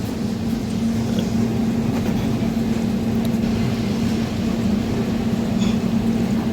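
A loud, steady boat engine drone with a constant low hum throughout, a motorboat running close by near Malpe beach, Udupi.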